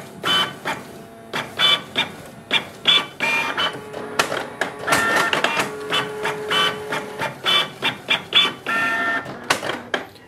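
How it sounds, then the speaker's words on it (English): Canon Pixma G3020 inkjet printer running black copies: a loud, close run of mechanical clicks, whirs and rhythmic motor pulses, with paper-feed rattles and brief tonal hums, and no talking. "If you want to do black, simply click on the black button and it will start the black copies."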